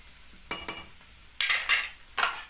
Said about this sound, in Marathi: तेल चांगलं तापलेलं आहे. त्यात कांदा आणि मिरची आपण परतून घेऊ.